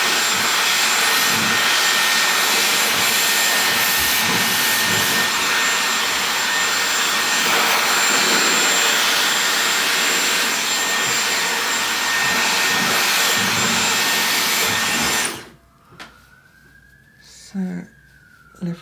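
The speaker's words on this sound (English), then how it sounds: "I'm going to blow dry the hair so it's just almost dry." Loud, steady whoosh of a hair dryer blow-drying hair before jumbo velcro rollers go in, constant roar for about fifteen seconds, then cutting off to quiet handling noises.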